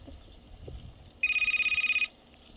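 A cellphone ringtone sounds as a short pulsing electronic trill lasting under a second, fairly loud and clear over a faint background murmur with some light handling noise before it.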